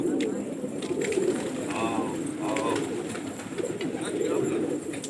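A young pigeon coos close by in a few brief throaty bursts over steady background hum, while a person nearby speaks to the bird.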